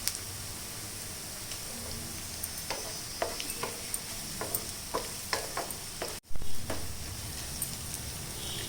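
Mutton keema fries with green chillies in a low, even sizzle, punctuated by a series of light spatula taps and scrapes and one sharp clatter partway through.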